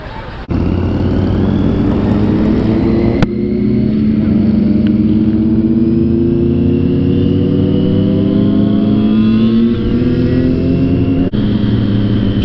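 Heavy motorcycles of 1000, 600 and 250 cc ride on a highway, engines droning loudly and steadily with gradual pitch climbs, heard close with wind noise and brief clicks.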